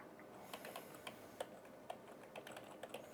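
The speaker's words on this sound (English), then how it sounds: "guess the password he's typing in" Someone typing a password on a computer keyboard, a quick run of soft, uneven key clicks with small pauses, fairly close and quiet, without talk.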